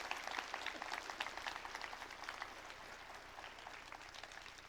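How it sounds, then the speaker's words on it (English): Applause from a tech conference audience, dense clapping from many hands that is quiet and distant in the room, fading slightly over a few seconds. "Again, big round of applause for Ivan."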